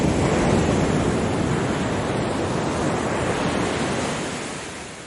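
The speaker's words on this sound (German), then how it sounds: "Lass dich vom Klang des Meeres verzaubern und tauche ein in die Welt der Entspannung." Ocean waves surge and wash continuously in a dense, steady roar of surf with some wind, loud throughout and easing slightly toward the end.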